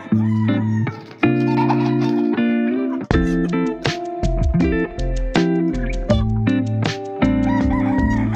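Loud, close rooster crowing, several long cock-a-doodle-doo calls in a row with clucks between them, at a backyard poultry setting where chicks are raised.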